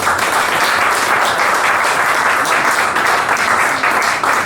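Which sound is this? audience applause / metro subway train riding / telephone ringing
audience applause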